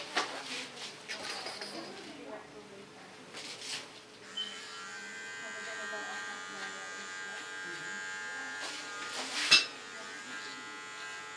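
Electric clipper shaving the nape and under the neck of a client with hair just recoloured from platinum blonde to black, a steady close buzz running through most of the stretch with a brief louder burst near the end.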